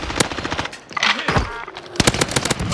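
Sharp bursts of automatic gunfire in Call of Duty, a quick rattling volley, a pause, then another close, loud burst within a few seconds.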